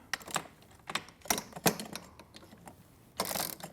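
An Allen wrench turns a bolt during assembly of a studio reformer with wooden posts, giving a series of close, sharp metallic clicks and ratcheting taps in irregular bursts, then a brief scraping rattle.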